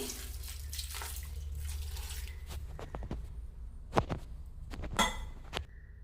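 Water is poured from a vessel into a mixer-grinder jar holding ground masala for kadale kalu sambar, a soft splashing trickle followed by a few sharp knocks and clatters of the jar.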